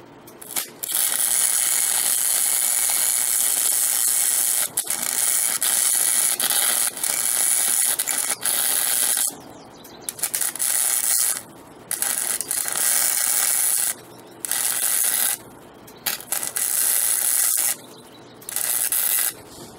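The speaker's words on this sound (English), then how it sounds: "Today is welding day." MIG welding on a steel trailer hitch for a Harley Sportster, a loud close crackling buzz that runs long at first, then breaks into several shorter welding bursts separated by brief pauses.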